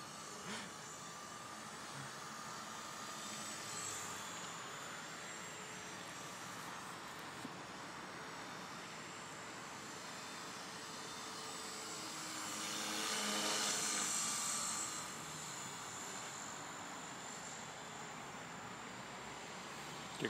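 A Spike 450 RC helicopter flies with a steady whining rotor and motor drone that swells slightly midway as it passes closer, then settles back, heard at a moderate distance with no talk.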